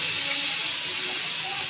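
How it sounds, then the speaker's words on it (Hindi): Hot tadka tempering poured over mustard-green saag sizzles loudly, a dense steady crackling hiss held close and unbroken for a moment. "और ये तड़का डाल"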